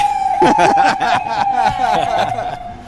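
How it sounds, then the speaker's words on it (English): A police car siren wails steadily and fairly close as it passes by, while people talk and laugh over it throughout. "back to the streets of Brooklyn with Brian, just as a police car is passing by."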